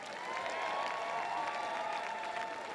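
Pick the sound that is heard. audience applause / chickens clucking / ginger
audience applause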